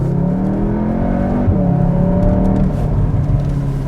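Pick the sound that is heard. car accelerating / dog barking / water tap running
car accelerating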